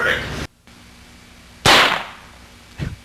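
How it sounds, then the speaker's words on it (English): Sampled gunshot effect triggered from an ASR-10 sampler keyboard: one sharp, loud crack with a decaying tail, followed a second later by a smaller burst, after a short stretch of room noise. "There's our gunshot."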